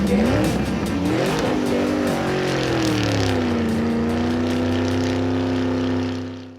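Power racing vehicle engine revving and accelerating, with rising then steady harmonic whine, loud and close throughout, fading out at the end.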